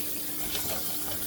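Water sprays from a spray-type kitchen sink tap, a steady hissing gush running close and loud for the whole moment, alone without talk.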